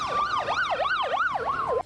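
An ambulance siren wails in a steady rising-and-falling cycle, loud and close, racing through the streets of Peshawar after a collapse, and it cuts off abruptly near the end with no voices.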